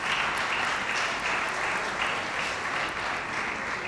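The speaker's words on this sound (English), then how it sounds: "Please rise for a round of applause." A standing audience at an annual lecture applauds in a round for an introduced guest, steady dense clapping with a slight pulsing, heard alone at a moderate level.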